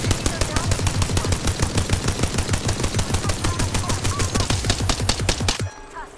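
Rapid automatic gunfire from the Apex Legends video game, a loud, dense burst of evenly spaced shots sustained for several seconds before cutting off abruptly.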